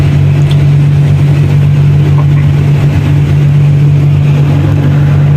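An excavator engine runs loud and close while the boom is lowered, a constant droning hum with a strong low tone and no break.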